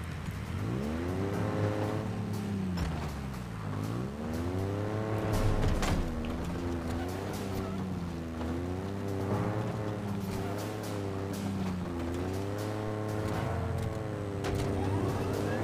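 Warthog vehicle in the Halo Infinite game, driven with a steady engine drone whose pitch rises and falls as it speeds up and slows, running continuously with no talk.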